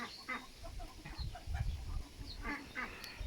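Chickens and ducks in a yard clucking and quacking faintly at a distance, scattered short calls over quiet outdoor background.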